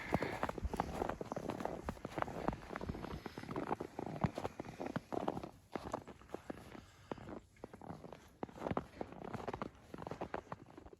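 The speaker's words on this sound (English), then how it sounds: "Footsteps." Footsteps crunch steadily along a snowy country lane near Woodstock, Vermont, during a snowstorm, a continuous rhythmic walking pace close to the microphone with wind and blowing snow in the background.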